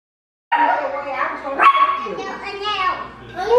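A dog barks and yips close by in short bursts, mixed in with people talking over it in a lively home setting.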